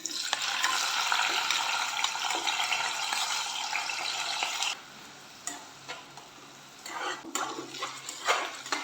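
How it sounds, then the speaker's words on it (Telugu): Onions and green chillies fry in hot oil with a loud, steady sizzle that cuts off midway, followed by quieter scattered stirring and pan scrapes. "స్టవ్ ఆన్ చేస్తున్నా ఆయిల్ అయితే వేసుకుంటున్నానండి ఉల్లిపాయలు పచ్చిమిరకాయలు వేసుకున్నాం"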